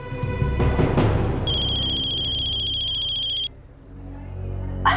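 A telephone rings with a bright electronic tone for about two seconds after a few dull knocks and rustles, then stops abruptly and quiet room sound follows.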